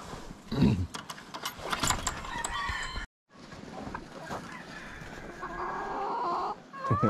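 Bantam chickens on a farm clucking and calling nearby, busy overlapping bird sounds with a brief gap of silence midway.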